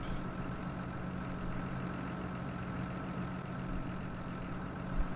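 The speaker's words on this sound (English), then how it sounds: "engine keeps running when we jump out." Truck engine idling in Farming Simulator 19, a steady low rumble holding at an even level throughout with no talk over it.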